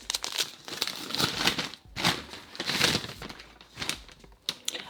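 A paper-wrapped book being unwrapped, loud continuous crinkling and tearing of paper in close bursts with brief pauses between them.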